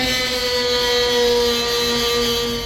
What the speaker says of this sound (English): I'll get them with the Dremel with a little wire wheel.